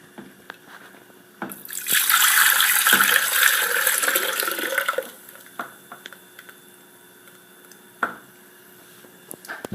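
Water pours steadily into a bread maker for about three seconds, a loud rushing splash that then tapers off, followed by a few small knocks and clicks.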